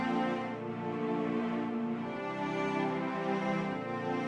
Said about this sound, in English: I'm using Flex Essential Strings, a sustained cello,